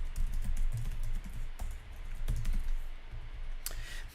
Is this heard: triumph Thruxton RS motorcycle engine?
no